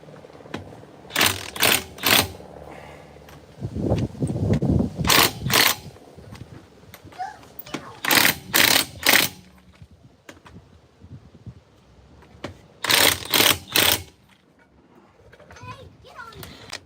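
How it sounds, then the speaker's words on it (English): A DeWalt DCF900 cordless impact wrench fires in short clustered bursts of rapid hammering, loud and close, with a mobile mechanic's voice briefly heard between the bursts. "Let's hit it with the DeWalt just to be sure."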